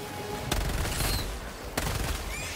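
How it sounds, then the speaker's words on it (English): Two sharp, heavy anti-material rifle shots from Helldivers 2, spaced about a second apart, each loud and close with a broad blast and lingering battle rumble, no talk. "Thankfully, I have an anti-material rifle."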